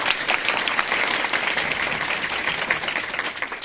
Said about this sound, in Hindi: प्रीति के लिए जोरदार तालियां।